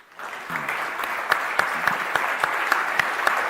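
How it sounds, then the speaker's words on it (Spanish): An audience breaks into applause at a speech, many hands clapping in a sustained, even roar with a few sharp louder claps standing out, rising quickly and holding for several seconds. "Yo digo que eso merece un aplauso."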